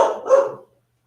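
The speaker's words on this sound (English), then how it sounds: "What's he barking at?" A dog named Tyler barks twice indoors, two quick, close, sharp woofs followed by silence.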